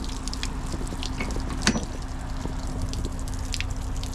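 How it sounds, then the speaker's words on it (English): Spring water dripping from the back of a hauling trailer, a steady quiet trickle with scattered individual drips and one louder splash, heard alone outdoors. "we got some fresh spring water here. I can drink it right out of the back of my trailer."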